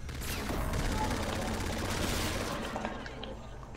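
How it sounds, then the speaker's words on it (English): Call of Duty Infinite Warfare gunfire during an infected match, a steady, moderately loud rattle of rapid shots that thins out near the end. "Tom, who's shooting?"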